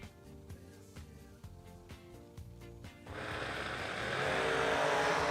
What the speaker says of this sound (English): Beautiful Pontiac Grand Am right side of the racetrack, shaking it down with the Nova